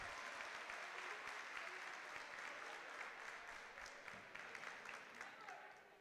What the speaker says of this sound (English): It's a nice round of applause from those in attendance inside Turner Gymnasium.